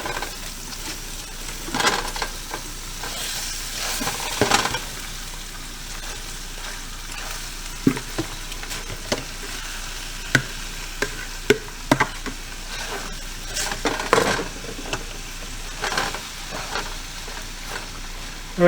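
Kale sautéing in a pan with a little rib rub sprinkled in, a steady close sizzle and fry broken by repeated scraping stirs and occasional sharp clinks of the utensil, with no talking.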